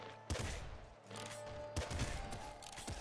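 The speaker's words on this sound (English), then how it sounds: "I'm definitely getting some explosions going on here" Bursts of explosions and rapid gunfire from the top-down shooter Nuclear Throne Ultra Mod, two sharp blasts followed by dense, continuous crackling game effects at steady loudness with no talking.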